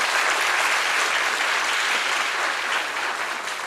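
A crowd at a graduation ceremony applauds the developers of a distance learning plan, a thick, even roar of clapping that holds steady throughout and fades slightly near the end.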